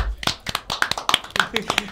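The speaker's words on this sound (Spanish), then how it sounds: "un fuerte aplauso" Applause greets a drag queen, Lemi, as she appears on stage at a variety show. Sharp, uneven handclaps come in quick bursts over about two seconds, close and fairly loud.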